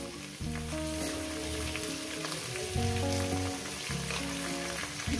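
Potatoes fry in hot oil for a chicken curry, making a continuous, dense sizzle like steady rain. The sizzle sits under loud background music throughout, with no talking.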